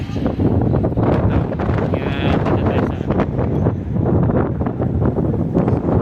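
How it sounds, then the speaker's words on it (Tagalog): Strong wind roars steadily into the microphone, buffeting and rumbling throughout, with a voice speaking briefly beneath it. "Grabe ka lakas ng very windy."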